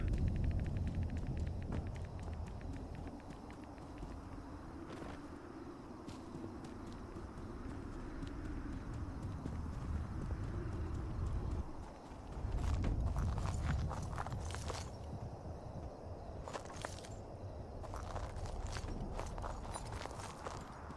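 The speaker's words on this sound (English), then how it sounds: "Like the glass crushing footstep sound effects. Quick crunchy." Crunchy, glass-crushing footsteps from a zombie survival video game, a steady quick patter of steps running through most of the stretch over a busy game soundscape, with no talking.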